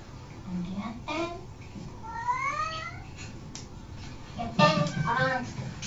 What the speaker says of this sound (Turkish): Yavrum kedimiz var.